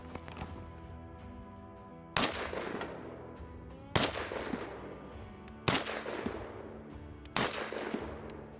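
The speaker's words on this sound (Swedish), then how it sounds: "Provar några skott med 308 här." Four loud, sharp rifle shots from an Ensio KAR-21 chambered in .308 ring out at a shooting range, spaced a couple of seconds apart, each followed by a decaying echo.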